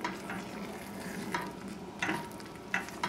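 A roux bubbles and sizzles in a pan while a spoon stirs it, a steady soft frying hiss broken by a few scraping strokes.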